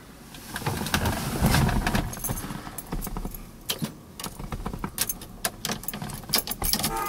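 Car keys for a 1971 Chevelle SS 383 jangle and clink close by in a rapid series of bright metallic rattles, with scattered taps and handling noise between them.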